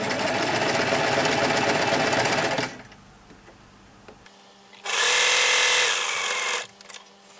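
A sewing machine stitches quilt pinwheel block pieces in two loud, steady runs, the first lasting under three seconds and the second under two, separated by a quieter pause.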